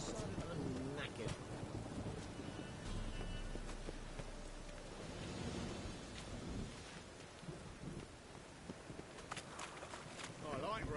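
Rain falling in the video game Witcher 3, a steady patter on surfaces with rumbles of thunder rolling beneath, fairly faint and continuous, while character voices speak over it.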